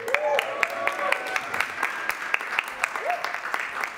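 Scattered audience clapping at a live stand-up comedy performance, sharp claps rising over a murmur of voices and talking in the room.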